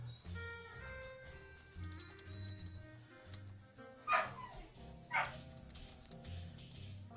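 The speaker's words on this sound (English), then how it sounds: "help the puppy remember that we don't bark" Dog barking in two sharp, loud bursts amid a busy, mixed background of tones and clatter.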